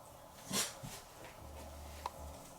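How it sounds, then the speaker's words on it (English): An 11-year-old dog whimpers and snuffles softly while being reunited with its owner at a family home. The sounds are quiet and close, with one brief sharper yelp-like burst among faint breathy noises. "reunited with my dog Mochi!"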